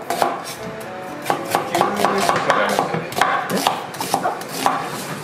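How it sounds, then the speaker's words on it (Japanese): A knife chops an onion on a cutting board while cooking corn potage, giving a quick run of sharp, close taps in an uneven rhythm over a hum of kitchen noise. "玉ねぎを切ります"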